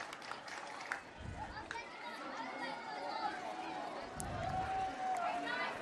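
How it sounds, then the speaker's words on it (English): Crowd at a high school varsity football game between Rochester and Knox, roaring and chattering after a big play. A broad, steady wash of many voices fills the stands, with a few sharper shouts rising above the general hubbub. "That energized the crowd. You can hear them."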